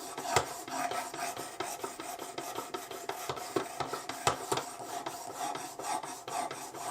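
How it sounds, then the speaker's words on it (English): A knife blade is honed on a Worksharp Precision Adjust sharpener, giving a steady run of close, dry rasping strokes in quick rhythm with a few sharper clicks, and no voices. "So now I'm just going to switch to the hone. And we'll hone it out a little bit."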